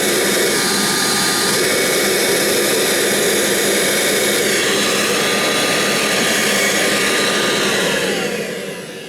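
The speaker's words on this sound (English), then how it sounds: "Here's the Legend 2. You might hear a little bit of an air leakage because there's no belt lifter on it." A Kirby Legend 2 upright vacuum cleaner with no belt lifter runs with a loud, steady, jet-like whine and a hint of rushing air leakage, alone and close, easing slightly at the end.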